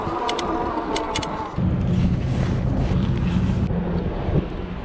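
Big ship passing close by a fishing boat at a catfish spot: a steady low engine rumble and rushing water swell in partway through, under heavy wind buffeting on the microphone, with no talk.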